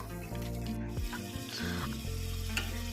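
A pan sizzles steadily as a thick ground masala paste of roasted spices fries, the hiss continuous beneath background music.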